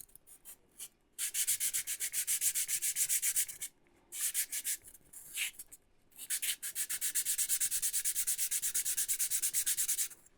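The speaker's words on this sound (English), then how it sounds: "I've got some 400 grit sandpaper here, and I'm just going to remove any large sections" Bursts of steady rhythmic rubbing as 400 grit sandpaper is worked back and forth over a hoverboard part, broken by short pauses, close and clear with no voices.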